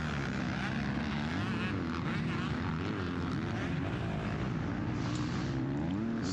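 Distant motocross bikes at a state title race, a 2-stroke Husqvarna against a 4-stroke Kawasaki, droning and revving steadily with wavering engine pitch, faint and continuous.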